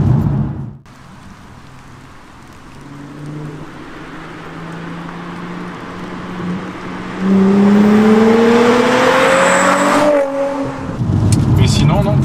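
A Nissan 350Z's naturally aspirated V6 accelerates, its pitch climbing steadily as it revs higher through a gear, heard from inside the car with road noise underneath and brief talk.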